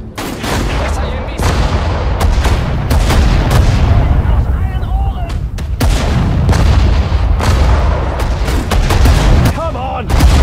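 Artillery and gunfire in the World War II desert-war strategy game Sudden Strike 4, with loud, dense booms and rapid shots over a continuous heavy rumble and scattered voice callouts.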